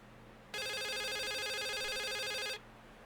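Phone in the video game The Suicide of Rachel Foster ringing in one steady electronic trill lasting about two seconds, clear against a quiet room hum.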